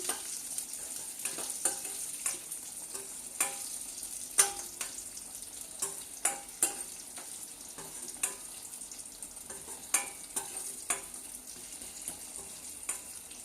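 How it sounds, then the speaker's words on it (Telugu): Onions frying in a pan, with a steady soft sizzle broken by intermittent scraping taps of a spoon as they are stirred, close and moderately quiet, with no talking. "వేగుతున్నాయి కదండి."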